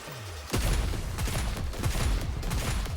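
Aegis cannon in the video game NIKKE firing a sustained barrage: a rising whine, then a heavy blast at about half a second followed by a dense, rumbling volley of rapid booms that continues loudly to the end.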